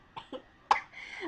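A few short coughs in quick succession, close and moderately loud, the last one sharper and followed by a trailing breathy sound.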